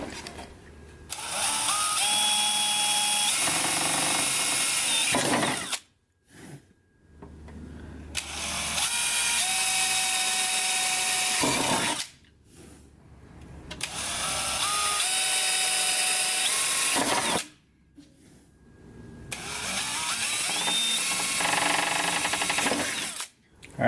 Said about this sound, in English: we're gonna have to just drill through the base plate